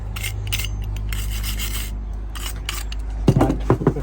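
Copper grease being rubbed onto brake parts of a Toyota Avensis T270 D4D: repeated close scraping, rasping strokes over a steady background hum, with a few sharper knocks toward the end and no voice.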